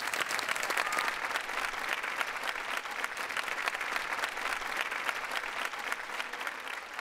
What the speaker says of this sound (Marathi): या मंचाच्या माध्यमातून विनय आपटे यांच्यासाठी एकदा जोरदार टाळ्या झाल्या पाहिजेत